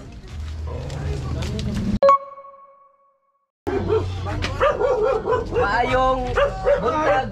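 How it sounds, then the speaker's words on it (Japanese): Dog barking in a slum neighborhood street, repeated nearby barks mixed with people talking, a short pause in the middle, then more barking under continued voices. "犬危険。"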